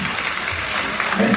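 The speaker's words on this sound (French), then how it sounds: "Tous nos applaudissements justement pour Réjeanne." Audience applause at an annual association gala, a steady dense wash of clapping that stays level throughout, with a faint voice near the end.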